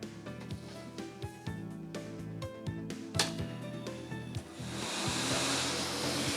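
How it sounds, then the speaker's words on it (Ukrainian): A lottery ball drawing machine starting up: music plays with rhythmic beats, then a rising, steady whoosh of air takes over as the machine runs. "Вмикаємо лототрон"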